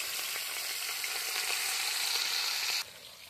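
Large pieces of rohu fish sizzle in hot oil, a steady, dense frying hiss that holds evenly for about three seconds before dropping to a quieter sizzle near the end.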